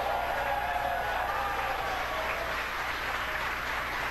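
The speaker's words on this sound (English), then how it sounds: "You can hear cheering here at SpaceX headquarters" SpaceX employees gathered at headquarters mission control cheer and applaud during a Dragon capsule splashdown, a continuous roar of clapping and crowd noise, steady and moderately loud with no talk.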